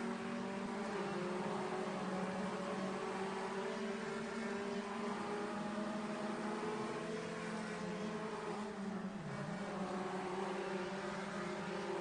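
Race cars in a winter sim racing series event drone with a steady, even engine hum throughout, the tones rising and falling slightly as the cars lap, with no talk over them.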